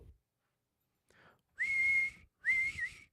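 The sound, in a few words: person whistling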